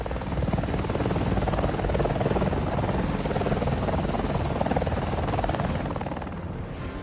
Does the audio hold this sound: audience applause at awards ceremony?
no